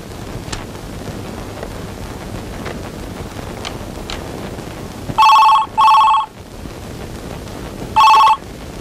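An indoor telephone bell rings in two quick bursts, pauses, then rings once more, loud and close over a quiet background.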